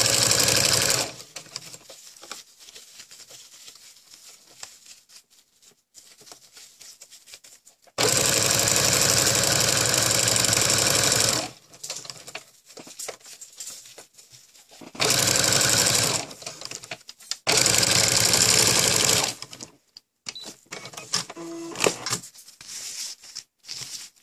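A sewing machine stitches a ruffle for a cloth diaper in three loud, steady bursts of rapid whirring, separated by quieter pauses filled with fabric handling and small clicks.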